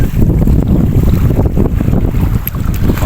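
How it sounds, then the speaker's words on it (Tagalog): Strong wind buffets a boat while fishing for kingfish off Abu Dhabi, roaring loudly and close into the microphone with gusty rumbling and a wash of water beneath, no talk. "Malakas ang hangin."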